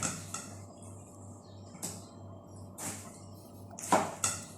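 A knife slicing tomatoes on a board gives a handful of sharp, separate cuts and taps at irregular intervals, close and fairly quiet, with a faint hum beneath.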